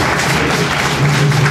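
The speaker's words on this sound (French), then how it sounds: "Ça s'applaudit." Audience at an award ceremony applauding, a dense continuous wash of clapping from a sizeable crowd lasting the whole short moment, steady and fairly loud.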